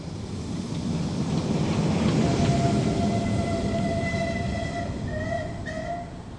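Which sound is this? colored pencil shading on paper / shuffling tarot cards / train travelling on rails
train travelling on rails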